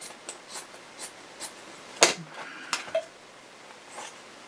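Scissors cutting fabric for a zipper face mask, a scattering of soft snips and rustles with one sharp, close cut midway, followed by a few lighter clicks, in a quiet room.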